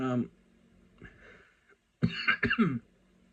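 A few harsh coughs and throat-clearing bursts, close and loud, separated by short quiet gaps.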